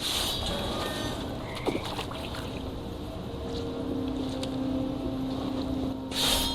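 Toads croak steadily through an ambient nighttime soundscape in the video game What Remains of Edith Finch, a low continuous croaking band over wind-like background noise, with no talking.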